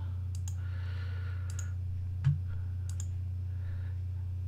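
A computer mouse clicking while making selections in Photoshop, a few sharp, quiet clicks spaced out over a low steady electrical hum, with faint movement noise in between.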